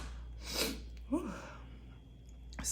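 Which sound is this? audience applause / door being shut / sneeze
sneeze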